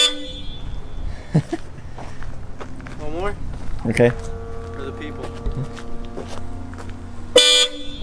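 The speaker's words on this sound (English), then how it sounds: "Alright, honk it." Aftermarket Hella horns on a Honda Prelude blare in several short, loud blasts up close, with people talking and footsteps between the honks.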